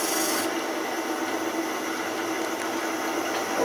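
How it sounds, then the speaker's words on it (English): A negative rake scraper smooths turned wood spinning on a lathe, giving a steady, continuous hissing rasp under the hum of the running machine, loud and close. "Clean it up with my negative ray scraper"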